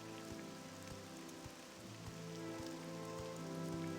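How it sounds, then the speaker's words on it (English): Steady rainfall in the video game Morrowind, a soft, dense hiss of drops on surfaces with occasional low thuds, heard alone at a fairly quiet level. "I know it's raining and icky though"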